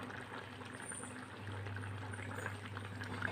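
Homestyle chicken curry simmers in a covered pot, a steady soft bubbling and hissing with a low continuous hum underneath, quiet and close, with no talking.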